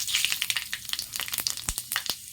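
Panch phoron spices hitting hot oil in a kadai give a bright, crackling sizzle with quick popping bursts, close and steady for a couple of seconds.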